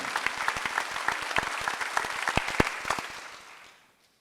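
A church congregation at a Sunday worship service breaks into dense, lively applause from many hands, steady for about three seconds before tapering off into silence.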